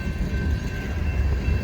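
A CSX L301 freight train rolls past during a blizzard, a steady broadband rumble and rail noise with wind roar filling the whole span, moderately loud and continuous without speech.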